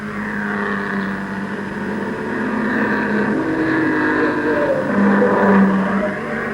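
Pre-war vintage Bristol racing cars passing on a circuit, a sustained droning engine note that swells and shifts pitch as they go by, fairly loud and steady with no voices.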